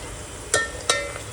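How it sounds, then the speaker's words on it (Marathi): Cashews and raisins frying in oil with onion, a soft continuous sizzle with two brief scraping stirs, close by and short. "त्याच्यामध्ये आपण हे काजू आणि मनुके फ्राय करूया"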